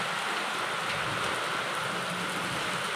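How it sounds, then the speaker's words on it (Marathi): Heavy rain and strong windstorm during a hailstorm, a steady dense hiss of downpour with no break across the moment. "बघा किती वादळ सुटलं"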